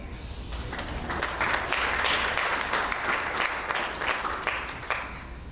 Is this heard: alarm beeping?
no